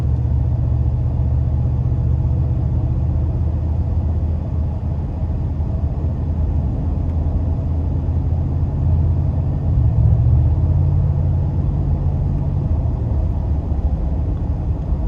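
2020 Mercedes-AMG G63 exhaust rumbling from inside the cabin while driving, a continuous heavy low-pitched drone that swells slightly partway through.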